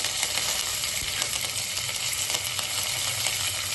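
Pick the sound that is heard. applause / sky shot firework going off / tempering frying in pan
tempering frying in pan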